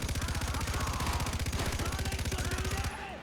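Rapid, evenly spaced gunshots fired in Far Cry 4, a loud continuous stream of rhythmic bursts for about three seconds before cutting off abruptly.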